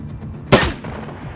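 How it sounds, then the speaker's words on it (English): A single sharp grenade blast from the video game Shadowrun Dragonfall, a loud sudden burst with a short decaying tail over a low background hum. "You're just lobbing grenades for shits and giggles now."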